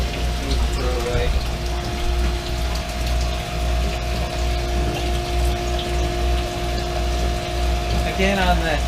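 A liquid pump drains water from an Echo Lake Aquworx treatment unit, giving a steady, fairly loud hum with a constant tonal whine and low rumble that runs through the whole stretch, with faint background voices.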